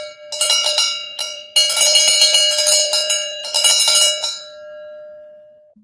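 Cowbell rung in a quick series of bright metallic clanks, grouped into three loud bursts with a sustained ringing tone, then fading away.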